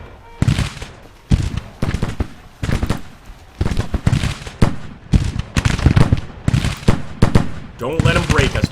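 Musket volleys crack in rapid, irregular bursts during a Civil War battle in Grand Tactician: The Civil War, loud repeated gunfire across the whole stretch with brief pauses between salvos.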